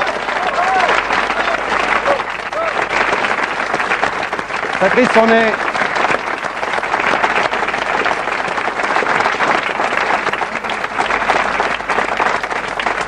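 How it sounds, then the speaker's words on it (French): A studio audience gives a standing ovation for news director Patrice Duhamel on the French channel La Cinq: dense, loud, sustained clapping that runs steadily the whole time, with voices speaking over it. "on va quand même lui faire ce que les Américains appellent une standing ovation"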